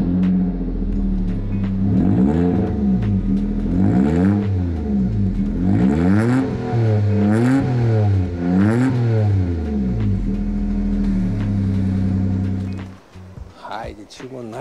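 A lowered Suzuki Alto built in kaido racer style revs through its exhaust muffler, the engine note climbing and falling in repeated loud, close bursts over a steady idle, ending in a few clatters.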